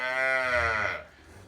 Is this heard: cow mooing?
yes